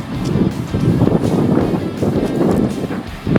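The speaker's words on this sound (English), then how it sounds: "Winds are picking up." Strong gusty wind buffets the microphone outdoors around a dumpster-hauling truck, a loud, rough, continuous low roar that swells and eases.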